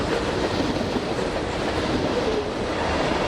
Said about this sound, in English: The passing of this train